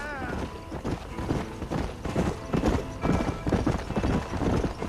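Horse hooves clip-clop steadily in the video game Red Dead Redemption, a close, rhythmic gait of repeated hoof strikes with a brief whinny near the start and faint creaking tack throughout.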